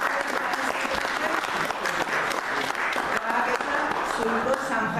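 An audience at a book presentation breaks into steady, full-room applause that carries on for several seconds, with a voice faintly audible beneath the clapping.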